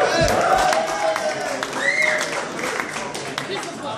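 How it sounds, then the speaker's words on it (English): Guests at a 21st birthday party clap and cheer for the birthday guy. The applause is moderate and mixed with crowd chatter and shouts throughout. "Round of applause for him."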